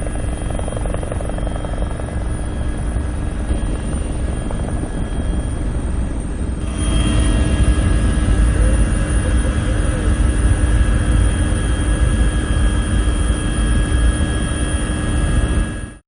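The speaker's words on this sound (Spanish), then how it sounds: "los propios operarios de uno de los helicópteros que participan en la extinción del incendio" A firefighting helicopter flies over a wildfire between Arafo and Candelaria on Tenerife. Its loud, continuous rotor and engine drone fills the whole stretch, and the tone shifts slightly partway through as it passes close.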